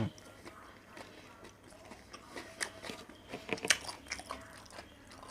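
Crisp bites and wet chewing of a crab stick salad roll with dipping sauce, close up and quiet, several sharp crunches clustering toward the end over a low background hum.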